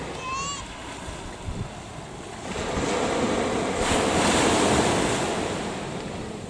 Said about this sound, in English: I'm just going to stand in the shelter of it. See if it helps with the wind.